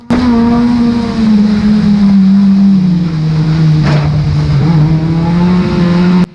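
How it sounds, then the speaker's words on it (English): A stock car's engine at Cowdenbeath Racewall screams continuously with its throttle jammed open by a snapped throttle-cable spring, holding a loud, steady high-rev drone that dips slightly and climbs again, close and unbroken throughout. "the spring on Aussie's throttle cable snaps and it jams the throttle on"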